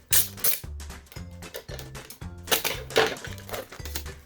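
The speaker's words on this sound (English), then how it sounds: "I'll throw a couple pieces of tape on here." Packing tape is pulled and stuck onto a small cardboard shipping box in several short rasping strips with taps and rustles, close and fairly loud, with no talk.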